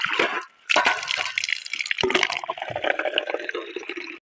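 Tap water gushes into a bowl after a water pot is moved aside, with a splashy start, a brief pause, then a steady loud filling stream.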